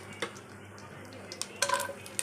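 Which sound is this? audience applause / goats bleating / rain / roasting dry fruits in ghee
roasting dry fruits in ghee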